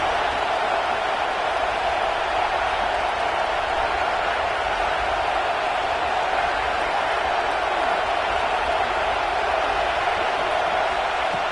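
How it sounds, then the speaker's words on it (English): A home crowd at a college football video game roars in a steady, dense wash of cheering that holds at a constant level throughout, with no clear individual voices. "this home crowd is fired up and ready to make a difference today."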